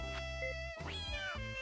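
A cat meows inside the video game Professor Tim, giving a few clear, close meows over a steady electronic game music background.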